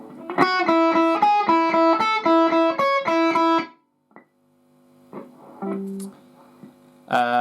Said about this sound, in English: between all the notes in this section there are 2 hits on the open E